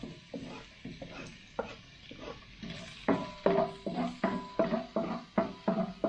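Garlic sautéing and being stirred in a pan for a mussel dish cooked at a cave, heard as steady close sizzling under a run of rhythmic scraping stir strokes that grow louder in the second half.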